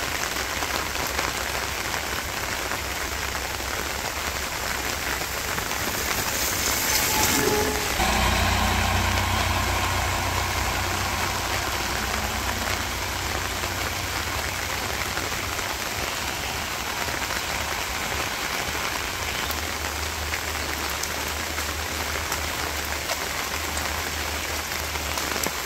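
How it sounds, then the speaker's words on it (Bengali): Steady rain patters densely on surfaces outdoors, a continuous wash of drops with a low engine-like hum swelling briefly partway through, no voices. "বৃষ্টি কমে গেল"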